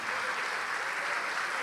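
A church congregation claps together in a continuous, even wash of applause, moderately loud and unbroken for the short stretch.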